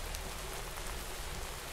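Rain pours down in the video game Craftopia, a dense, even hiss of falling water with faint drop ticks, steady and unbroken with no talking.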